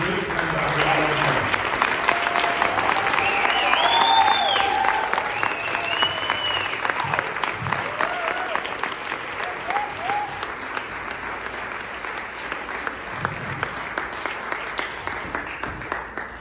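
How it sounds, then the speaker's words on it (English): An audience at a motivational talk gives loud, sustained applause that slowly fades, with some cheering and whistles over the clapping. "Give a huge applause to my great friend, Dr. Evan Osar."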